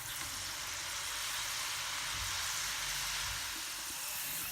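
Chana dal fries in hot oil, a steady close sizzle with fine crackle, heard alone without talk.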